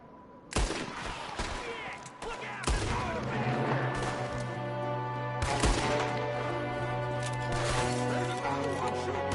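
Gunfire in the video game Red Dead Redemption 2, with loud, close shots and bursts over sustained game music and ambience, with a voice speaking briefly.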